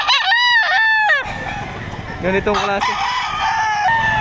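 Roosters at a Saturday chicken market behind SM City Lipa, Batangas, crow loudly and close, two long crows in succession followed by another, with clucking and someone speaking briefly underneath.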